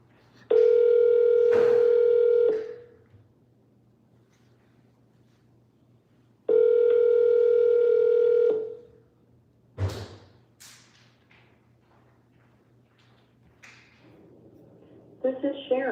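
Outgoing telephone call ringback, two long steady tones separated by a silent gap, loud and close, followed by a thump and a few faint clicks before a voice begins.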